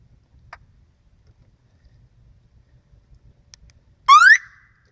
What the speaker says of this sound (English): So now the alarm's on.